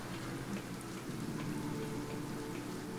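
Rain falling in the survival video game Sheltered, a continuous soft hiss of raindrops with a low steady rumble underneath, even and unbroken, with no voices.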